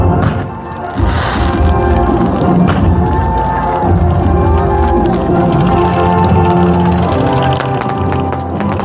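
A large audience cheers and applauds at a ceremonial anniversary event, a dense sustained crowd roar with clapping and thumps filling the whole stretch, loud and continuous.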